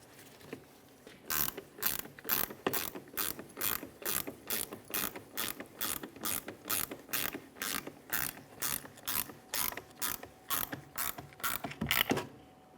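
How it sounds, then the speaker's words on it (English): A 16 mm ratchet wrench with a 1/4 inch tool tightens a rear shock absorber mounting nut on a 2017-2024 GMC Acadia, giving a steady run of about two dozen close, evenly paced clicking ratchet strokes. "Continuing with our 16 millimeter ratchet wrench and our 1/4 inch."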